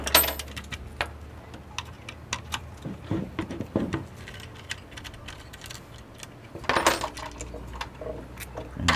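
Bolts are backed out of a metal accessory tray with an Allen wrench, giving faint, irregular metallic ticks and clinks up close, with a brief louder rattle near the end.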